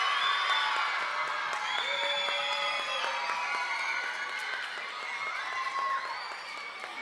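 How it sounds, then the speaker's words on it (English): Crowd applause and cheering at a school reading competition's final-four announcement, honoring teachers: sustained, fairly loud clapping mixed with children's whoops and shouts throughout. "let's have a round of applause for all our wonderful teachers."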